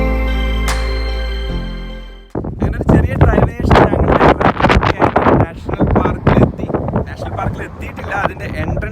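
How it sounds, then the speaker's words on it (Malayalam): Strong hot wind at the entrance to Red Rock Canyon National Park roars and buffets the microphone in loud, gusty bursts, following a brief tonal passage, while a person talks throughout. "നല്ല കാറ്റുണ്ട്, ഇവിടെ നിൽക്കാൻ പറ്റത്തില്ല, പക്ഷെ ചൂട് കാറ്റാണ്."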